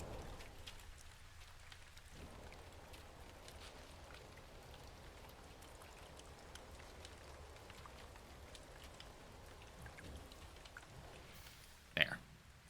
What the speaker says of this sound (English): there's sounds of rain in the middle of space